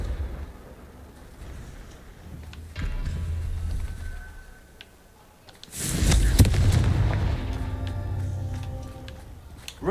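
Confringo fire spell exploding in Hogwarts Legacy: two booming blasts, the second louder and fuller with a long crackling rumble tail, over low ambient game sound with no talk.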